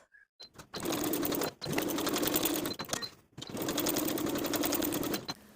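A sewing machine edge stitches binding along the folds of a bag's side pocket, running in three long bursts of steady rapid needle chatter separated by short pauses; close and alone.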